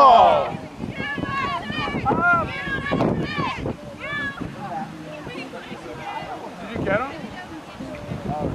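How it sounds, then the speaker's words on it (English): Gusty wind buffets the microphone outdoors at a river play spot, with low rumbling bursts beneath excited shouting voices throughout. "So goddamn windy."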